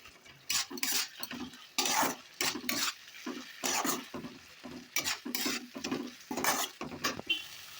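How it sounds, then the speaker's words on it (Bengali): Spice paste stirred and sautéed in hot oil in a pan for a Bengali vegetable dish: repeated scraping strokes of a spatula against metal, rhythmic and close, over a soft sizzle. "দেখো মশলাটা কষানো হয়ে গেছে তেল ছেড়ে দিয়েছে"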